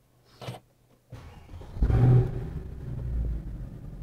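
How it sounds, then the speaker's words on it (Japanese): A click and brief whir of the starter, then a 2014 Mercedes-Benz C63 AMG Edition 507 engine catches and settles into a steady low idle rumble close by. "エンジンの方ですねかけていきます"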